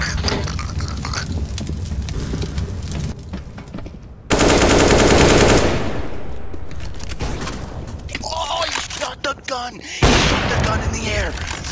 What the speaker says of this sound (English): He shot the gun in the air.